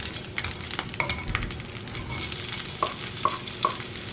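Sliced onions sizzling in garlic-infused oil while being stirred, a close crackling fry broken by scraping strokes and a few sharp spatula clinks against the pan.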